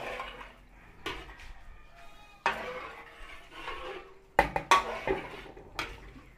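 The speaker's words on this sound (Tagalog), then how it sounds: "Haluin po natin." Stirring a pot of Filipino food with sotanghon noodles to come, a utensil scraping and clinking against the pot in scattered strokes, with a cluster of sharper knocks near the end, close and fairly quiet.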